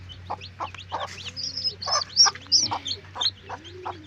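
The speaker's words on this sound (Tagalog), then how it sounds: "Yung kikit ng mga sisiw." Native chicks cheep in quick, high peeps close by, a busy run of short calls scattered over a low steady hum, with some louder clucking bursts mixed in.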